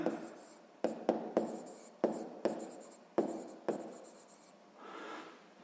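A pen writes out a sixth-grade maths exercise on map distances, with a series of sharp tap-like strokes followed by scratchy scribbling, close and clear, ending in a softer rubbing stroke.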